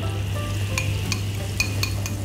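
Eggs being whisked in a bowl for an omelette beside a pan of heating oil, a soft steady scraping with a few sharp clinks, over a constant low hum, no talk.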